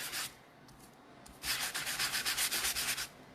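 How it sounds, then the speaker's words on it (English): Electric sander running over embossed two-tone cardstock, a short burst at the start, then a louder steady stretch of rhythmic pulsing abrasive rubbing in the second half, close and clear with no talking. "I just used this sander, just sanded over this piece here."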